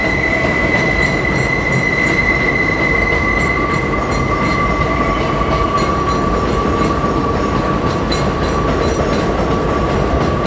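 New York City subway train rolling past, a loud steady rumble of wheels on rails with sustained high metallic squeals and some rhythmic clatter.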